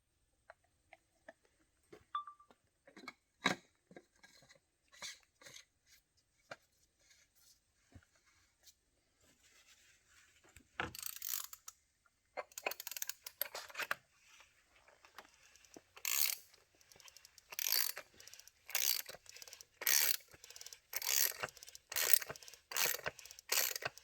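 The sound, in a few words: ratchet tightening oil filter housing on Jaguar F-Pace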